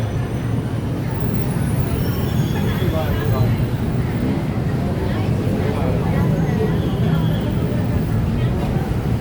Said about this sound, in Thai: รถไฟฟ้าเนาะพี่น้องเส้นทางรถไฟฟ้า BTS เนาะ